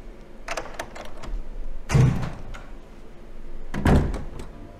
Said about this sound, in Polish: Dobra, wejdźmy do pierwszych lepszych drzwi.